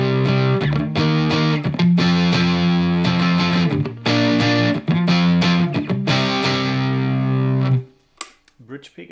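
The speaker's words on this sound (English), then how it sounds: "If I use the Tumnus for more of an overdriven sound, it will sound like this." Electric guitar played through a Tumnus overdrive pedal on the bridge pickup, crunchy distorted chords ringing with short breaks, then cutting off into near silence at the end.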